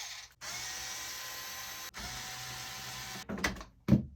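A power screwdriver backs screws out of a Tascam 688 multitrack cassette recorder, whirring in two long steady runs with short pauses, then a few brief clicks and clatters of parts at the end, close and alone.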